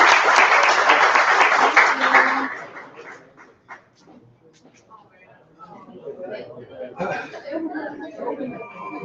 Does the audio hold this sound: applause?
yes